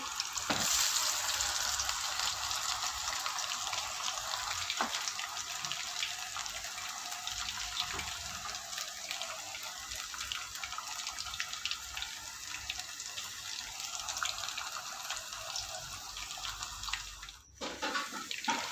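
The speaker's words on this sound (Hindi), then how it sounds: "मीडियम फ्लेम पे अब इसको फ्राई करेंगे" Fish pieces frying in hot oil over a medium flame, a steady close sizzling hiss that runs for the whole stretch and briefly dips near the end, with no talking.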